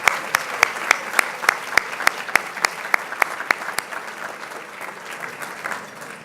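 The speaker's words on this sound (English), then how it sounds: "Let's honor them with a round of applause" Applause from a dinner audience, with loud, distinct claps near the mic standing out over a softer spread of clapping that gradually thins.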